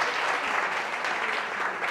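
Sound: audience applause

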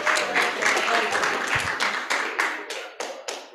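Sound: congregation cheering and applauding

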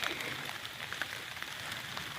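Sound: rain falling in the forest while foraging mushrooms

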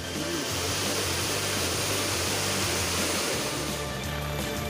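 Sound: heavy cloudburst-like rain in Nandgaon, Nashik

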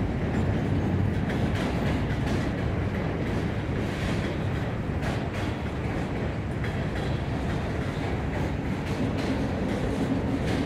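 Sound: Norfolk Southern freight train passing with CSX gondola

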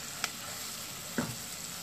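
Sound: frying in butter in a pan

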